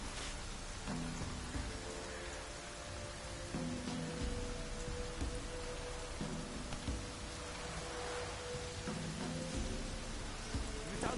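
Rain pouring in The Witcher video game, a continuous wash of droplets hitting surfaces with occasional low rumbles and soft recurring tonal game sounds beneath.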